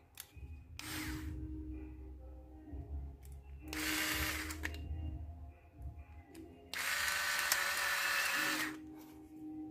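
Screws are tightened to secure the circuit board inside a ZSZ F98 hair clipper, heard as three loud whirring bursts separated by quieter stretches of faint hum.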